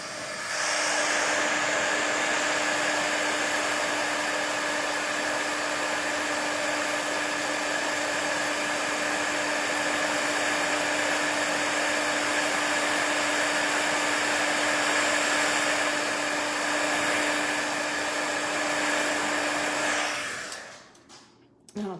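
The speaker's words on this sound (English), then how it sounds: "Okay, I am going to heat tool this." An embossing heat tool blows steadily for about twenty seconds with a continuous whirring hum and airy rush, close and loud, then cuts off abruptly at the end.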